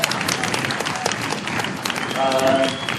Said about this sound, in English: So a round of applause, Dad.